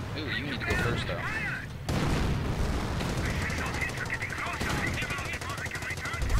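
Company of Heroes battle with mortar impacts and sustained machine-gun fire, a dense, loud, continuous barrage of rapid shots and blasts with game voice lines over it.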